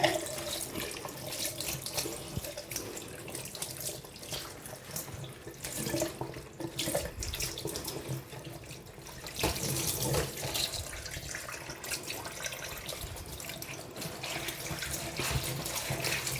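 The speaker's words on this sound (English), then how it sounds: "So we just rinse with cold water." Cold tap water runs steadily into a sink, rinsing wax-resist batik fabric to wash out excess dye, a continuous splashing rush with occasional louder surges of water.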